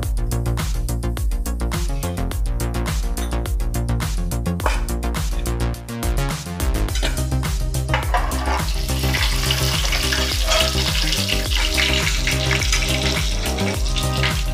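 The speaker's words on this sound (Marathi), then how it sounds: "आता आपण चिकनला फोडणी घालूया। ही पॅन मध्ये तेल गरम करायला ठेवलं" Chicken sizzling in hot oil in a pan with chili powder for Maharashtrian black gravy, a continuous crackling hiss over steady background music.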